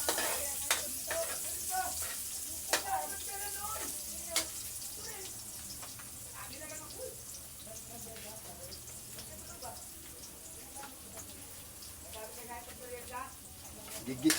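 Hot cooking oil crackles and spits in a kawali as ampalaya with egg is sautéed, a steady close sizzle broken by sharp pops and scraping stir strokes, with faint voices in the background.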